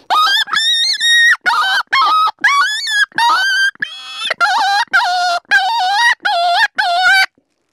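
A hand-blown predator call squeals out a rapid series of high, wavering yelps imitating coyote pup cries, about a dozen bursts in quick succession, loud and close.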